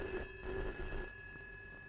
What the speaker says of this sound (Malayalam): ആ, ഫോൺ എടുക്ക്. എടുക്ക്.